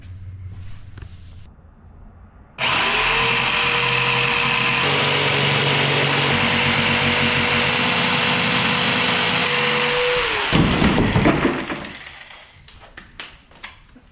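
A power tool cuts a piece off a wooden cabinet panel for a camper van kitchenette. The loud, steady high-pitched whine runs about eight seconds, then stops abruptly, followed by clattering and handling noises.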